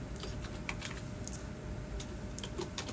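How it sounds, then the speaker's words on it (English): Steady typing on a computer keyboard, a quick irregular patter of soft key clicks, faint and close, with no talk. "I'm gonna type"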